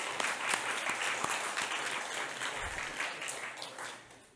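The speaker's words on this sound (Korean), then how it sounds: "다시 한번 강 교수님께 박수 부탁드리겠습니다" A church audience applauds a visiting professor after a humanities lecture, a soft, fairly distant wash of clapping that holds steady and then thins out toward the end.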